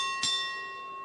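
Single strike of a boxing ring bell at a professional welterweight bout, a bright metallic ding that rings on with a long steady fading tone over faint arena background.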